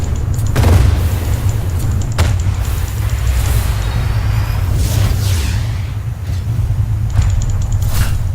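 Ship cannons fire in the Cloud Pirates airship battle game, with several loud booming shots spaced irregularly over a steady low engine drone.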